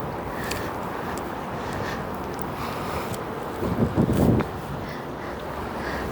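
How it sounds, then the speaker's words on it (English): Strong wind buffets the microphone at a harbor with low-tide water, a steady roar with a louder gust near the end; no speech. "Whew, super windy."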